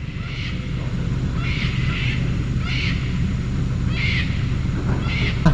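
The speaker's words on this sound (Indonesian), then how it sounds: "Semuanya burung kakak tua, paruh bengkok di sini." Repeated harsh cockatoo calls ring out in bursts about once a second over a constant rumbling background in Papua, moderately loud.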